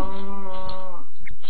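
A Minecraft cow gives one close, loud, drawn-out moo with a bleating quality, followed by a short grunting call, with no talking.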